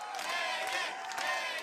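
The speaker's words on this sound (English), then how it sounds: "This crowd chanting her name." A large crowd at an American Ninja Warrior course chants an athlete's name in a loud, sustained roar of many voices, rising and falling in rhythmic swells throughout.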